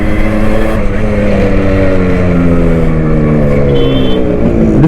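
Close and loud, a Suzuki Shogun motorcycle engine in good condition runs at a steady, throaty idle, easing slightly in pitch near the end.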